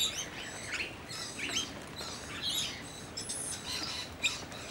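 Busy, overlapping chirps and squawky calls from several noisy miner birds nearby on a perch on a rainy day, a lively chatter with brief sharp peaks and no talking.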